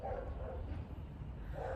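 Neighbor's dogs bark off in the distance outdoors, a few muffled woofs near the start and again at the end over a steady background hum.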